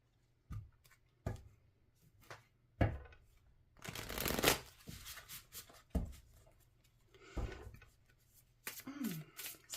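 Tarot cards are shuffled in quick papery bursts separated by pauses, with one longer riffling stretch in the middle, close and fairly quiet, with no voices.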